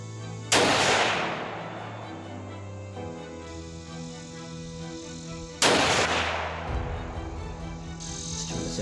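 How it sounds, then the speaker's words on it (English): Two loud rifle shots roughly five seconds apart, fired downrange through a Sightmark Latitude 8-32x60 scope. Each gives a sharp crack with a long rolling echo over a steady background of insects. "So let's throw some lead down range"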